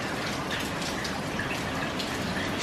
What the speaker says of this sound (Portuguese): Chuva, muita chuva.